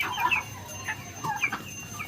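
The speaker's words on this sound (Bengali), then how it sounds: "তিনটে মুরগি আমার মুরগি ঘরে একই সাথে রয়েছে" Hens in a poultry house shared by country chickens, Kadaknath-type fowl and turkeys cluck softly in short repeated calls, several birds close by over a low background hum.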